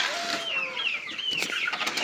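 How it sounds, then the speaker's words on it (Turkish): Chicks in their pen peep and cheep in a dense, continuous high chorus, with overlapping chirps close by and a few soft clucks mixed in. "Şu civcivlere de bakalım arkadaşlar"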